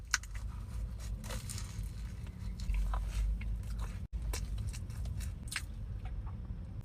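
Biting and chewing into a breaded fish hot dog with tartare sauce on a toasted bun from IKEA, with close crunchy bites and steady mastication alone over a low background hum.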